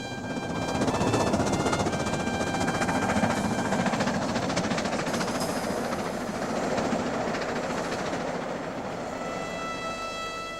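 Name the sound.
steam locomotive Duchess of Hamilton on Settle to Carlisle Railway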